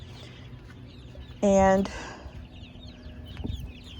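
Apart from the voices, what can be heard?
chickens clucking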